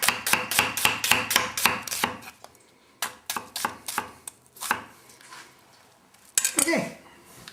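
A knife chops through food for meatballs and gravy on a board, a fast run of sharp, close knocks, a pause, then a looser series of cuts and a final scrape.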